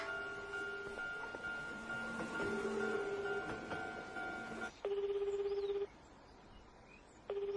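Telephone dialing and ringing in a visual novel video game, a run of touch-tone dialing beeps followed by a steady electronic ringback tone that sounds in repeated, evenly spaced bursts, clear and fairly quiet.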